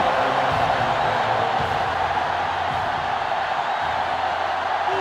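A stadium crowd roars without pause at a college football game in NCAA Football 2005, Florida against Florida State, making a dense, steady wall of cheering and whooping with faint commentary under it.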